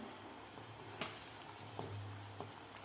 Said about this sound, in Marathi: इथं मी तेल वापरलेलं आहे बालुशाही तळण्यासाठी